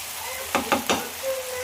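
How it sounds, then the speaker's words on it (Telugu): Chicken frying in a pan with a steady sizzle and a few sharp stirring scrapes near the middle, close and moderately loud, no talk. "మనం చికెన్ కూడా మంచిగా ఫ్రై అవుతుంది"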